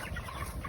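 Chickens cluck softly on a small farm that keeps a single dairy cow, a low, steady murmur of fowl sounds close by with no talking over them.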